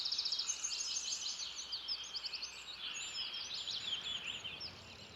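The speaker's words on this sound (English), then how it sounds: "in your right ear, you can hear birds of every kind as they settle down at dusk" Many birds chirping and calling at dusk from a rain tree in Bangalore, a dense layer of high twittering and chattering calls, steady and moderately close, with no talk.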